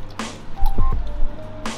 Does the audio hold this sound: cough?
no